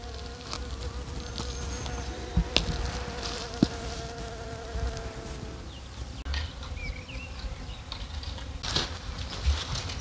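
Bees buzz steadily around water on a farmstead near a greenhouse, a continuous close drone with a few louder passes and no voices.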